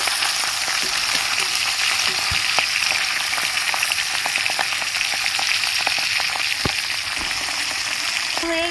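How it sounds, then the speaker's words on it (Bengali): Pabda fish frying in oil in a wok as the pieces are turned, a steady close sizzle broken by sharp crackles and pops, with no speech. "মাছগুলো আমি উল্টে নিচ্ছি"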